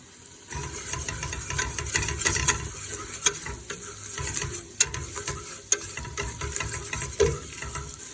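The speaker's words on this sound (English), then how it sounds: "I'm basically making a roux" Butter and einkorn flour cook into a roux in a hot pan, with a steady close sizzle under repeated scraping strokes of a stirring utensil and a few sharper knocks.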